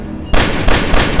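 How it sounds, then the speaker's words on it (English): Gunfire in the horror video game Only If, a sudden loud burst of shots cutting in after a quieter stretch, followed by a second dense volley, with no talking over it. "I'm just gonna have to, like, shoot around for the key."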